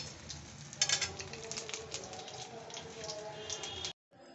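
Fish-oil fritters crackle and sizzle steadily in a pan of hot oil, a dense close hiss with scattered pops that cuts off abruptly near the end.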